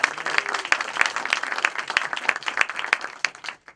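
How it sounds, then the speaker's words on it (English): Applause from a panel discussion audience, a fairly small group clapping with distinct individual claps in a quick, uneven rhythm that thins out and stops at the end. "And this is an applause necessary."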